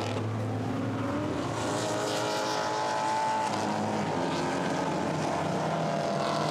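GT4 race cars roar around the Misano circuit, a dense, steady engine drone with overlapping whines close by and sustained without break.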